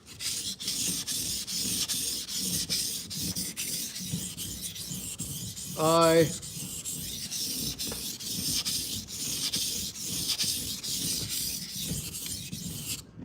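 A knife drawn steadily across a whetstone, a continuous gritty rasping that rises and falls in long, even strokes, with one brief louder scrape partway through; close and fairly quiet, with no talking.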